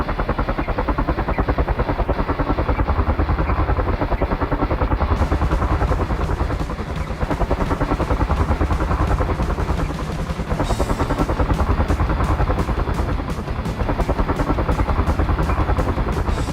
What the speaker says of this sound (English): This CH-53E helicopter showcased its remarkable durability by expertly performing in-flight refueling while hauling a Hummer.